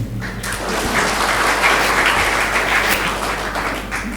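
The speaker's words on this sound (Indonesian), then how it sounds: "Sekali lagi tepuk tangannya" A church congregation at a Sunday service applauds together, a dense, steady wash of clapping that holds at full strength without pause across the whole stretch, with a faint hum beneath it.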